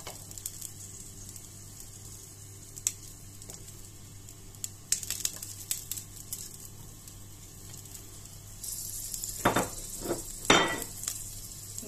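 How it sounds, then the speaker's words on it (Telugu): Cumin seeds and three green chillies dropped into hot oil for a chicken spinach curry, a faint steady sizzle that becomes a louder, sputtering crackle near the end. "ఆయిల్ వేడెక్కిన తర్వాత 1 స్పూన్ జీలకర్ర, ఒక 3 పచ్చిమిర్చి వేసుకోవాలి."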